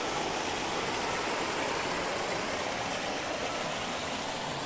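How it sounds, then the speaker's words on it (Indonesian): Clear river water runs steadily over and between rocks on a streambed at Kayangan Dlepih, a loud, continuous broadband rush close by with no voices. "air yang begitu jernih mengalir di antara bebatuan"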